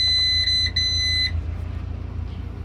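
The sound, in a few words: Renault Twingo hazard lights beeping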